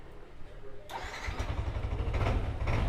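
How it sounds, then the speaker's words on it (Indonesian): A Yamaha Nmax scooter's electric starter cranks briefly, then the engine catches and settles into a steady, close idle that grows a little louder. "Sekarang kita coba starter."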